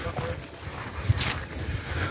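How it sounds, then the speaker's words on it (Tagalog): Strong wind buffets the microphone outdoors at a scenic rural spot in San Jose, a rough low rumble in uneven gusts, with people talking faintly underneath. "Malakas ang hangin."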